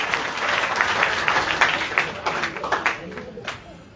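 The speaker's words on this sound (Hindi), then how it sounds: "इनके सबके लिए जोरदार तालियां" Hearty applause from a crowd at a Bhagwat katha religious gathering in Baraut, with dense clapping that swells and then gradually thins toward the end, amid a bit of background voice.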